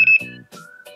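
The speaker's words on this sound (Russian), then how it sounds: "Так, первый звук, это самый такой пищащий." A FOX Mr+ fishing bite alarm gives short, high-pitched electronic beeps, brief tonal blips close up and fairly faint, with no talk over them.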